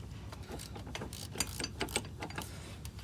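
A socket ratchet clicks in short, uneven bursts while loosening a water pump bolt on a Buick Lucerne's GM 3800 V6 engine. The clicking is close and moderately quiet, with no voices.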